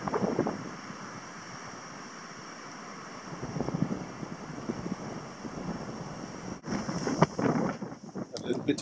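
Steady wind blowing across a dry mountain top, a constant rushing roar with gusts swelling and buffeting the microphone, fairly faint, with no speech.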